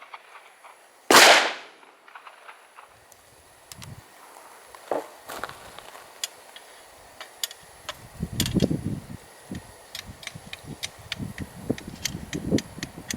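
A squib load loaded with 0.3 grains of Trail Boss fires, producing one loud sharp report close by, followed by clicks and rattling as the action cycles and then scattered handling noises.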